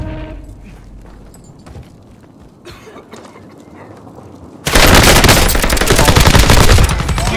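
Gunfire in Call of Duty Warzone starts as scattered, muffled shots and then turns abruptly into a loud, dense, continuous automatic burst during the second half.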